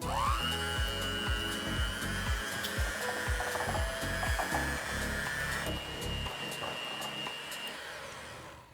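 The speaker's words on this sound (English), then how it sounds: "with a hand mixer, we're gonna mix this together" Electric hand mixer whirring steadily as it beats two eggs into peanut butter muffin batter, a continuous loud motor whine with beaters rattling against the bowl, its pitch shifting slightly partway through.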